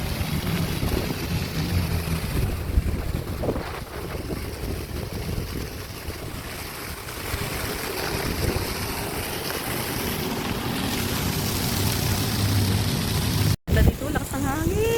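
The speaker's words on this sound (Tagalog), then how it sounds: "Ganda dito, lakas ng hangin." Strong wind roars against the microphone at night beside the water, a loud, continuous rumble with lapping waves beneath and faint voices mixed in, broken by a brief dropout near the end.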